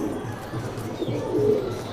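A Madrasi pigeon hen coos softly and close by in short, low, throaty pulses over a faint background hum.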